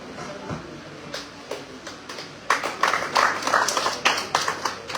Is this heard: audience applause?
yes